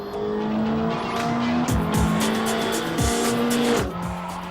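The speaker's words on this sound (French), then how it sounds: "Le Belge Freddy Loix est le premier à se lancer sur la piste." A Toyota Corolla WRC rally car on a test track, engine loud and close, revving hard through repeated sharp gear shifts with tire squeal and skidding, with no talk.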